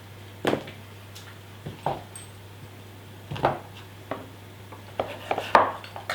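A knife chops through pumpkin pieces for soup on a cutting board in a cooking demonstration, with sharp separate knocks at an uneven pace, some in quick pairs, close and clear against a faint steady hum.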